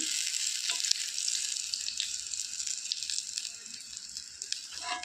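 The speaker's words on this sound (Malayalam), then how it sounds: "ഇപ്പോൾ ആ വശം നന്നായിട്ട് ഫ്രൈ ആയി വരാൻ തുടങ്ങിയിട്ടുണ്ട്." Ripe jackfruit fritters fry in hot oil with a continuous, bright sizzling hiss and fine crackle, fairly close and steady, with a couple of small clicks along the way.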